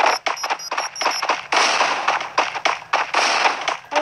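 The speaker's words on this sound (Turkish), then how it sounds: "Ben bomba attım. Bir tane bomba attım." Thrown grenade going off in the Free Fire mobile battle game, amid a rapid string of sharp, crackling bursts and pops that fire in quick succession and stay loud and close, with no talk over them.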